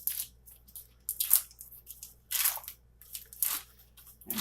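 Plastic wrappers on 8-ounce packages of cream cheese are torn open in several quick, crinkly rips. The sound is close and fairly quiet, with short pauses between tears.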